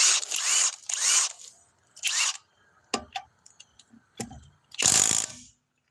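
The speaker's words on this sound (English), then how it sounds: "Now, let's put it on the Bosch GDS. 18V 330C." A Bosch GDS 18V 330C cordless mid-torque impact wrench loosening a fastener, heard as several loud, close bursts of hammering with short pauses between them, followed by fainter clicks and rattles.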